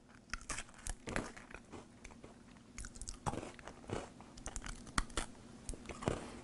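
Someone bites into a hot chicken wing and wasabi flavored Oreo cookie and chews it close up, giving an irregular series of crisp crunches and smaller crumbly chewing sounds, with no talking.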